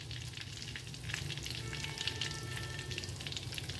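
Whole cloves, cardamom and cinnamon sizzle steadily in hot oil with a torn bay leaf, ginger paste and a dried red chili, giving a close, continuous crackling fry with small pops throughout.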